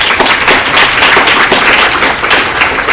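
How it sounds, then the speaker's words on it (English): Audience applause for the speakers at the close of a talk, a dense, steady wash of many hands clapping at close range, sustained evenly for the whole stretch with no voices on top. "I just want to give another round of applause to all of the speakers."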